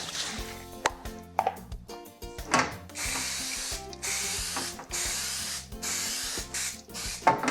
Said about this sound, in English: we're going to spray a baking sheet with cooking spray